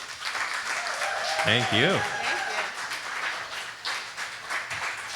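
An audience applauds after a song performance with close vocal harmonies, a steady broadband clapping that runs the whole time beneath a brief spoken thanks.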